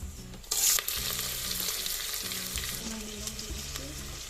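Onions hitting hot oil and ghee with bay leaves and green chilies, a sudden loud sizzle that settles into steady crackling frying with stirring scrapes.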